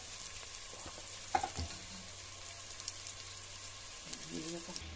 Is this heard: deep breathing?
no